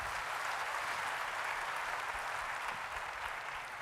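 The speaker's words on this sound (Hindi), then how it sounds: "एक बार उनके लिए जोरदार तालियां होनी चाहिए" An audience at a motivational success event in Lucknow gives loud sustained applause for a speaker, thick continuous clapping with no break.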